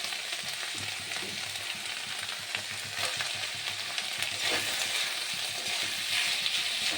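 Chopped capsicum and tomato sauté in a hot pan for a fish-head mung dal, giving a steady, close sizzle and crackle that holds evenly throughout with no voices.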